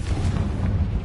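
A Confringo fire-spell explosion in the video game Hogwarts Legacy, a short, continuous roaring boom with heavy low rumble that holds steady for about a second, close and fairly loud.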